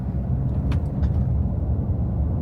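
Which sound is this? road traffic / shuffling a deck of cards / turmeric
road traffic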